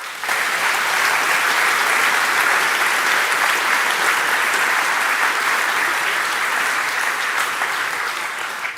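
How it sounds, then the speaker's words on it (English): Sustained, dense applause fills a hall as an audience at an academic year opening warmly claps for a panel, loud and even throughout with no voices over it. "please give the panel a very warm round of applause"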